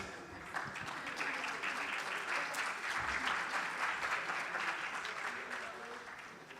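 An audience applauds continuously, a dense steady clapping that swells slightly in the middle and fades a little toward the end.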